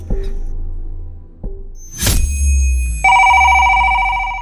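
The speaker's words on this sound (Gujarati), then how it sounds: "ના વળી કોનો ફોન વાગે?" A telephone bell rings loudly and steadily in the second half, after quieter knocks and a sharp rustling burst indoors; no one speaks.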